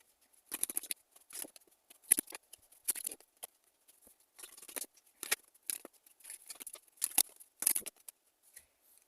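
Tarot cards are shuffled and drawn by hand, quick crisp bursts of riffling and sliding card stock in irregular clusters, close and fairly quiet with short pauses between, no talking.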